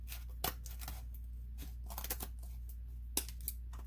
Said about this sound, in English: we're going to take our scissors and we're going to cut right along this spine here